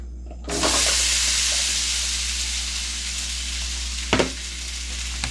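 Potatoes hit a preheated skillet and burst into loud, steady sizzling that slowly eases, with a couple of sharp clatters of stirring partway through.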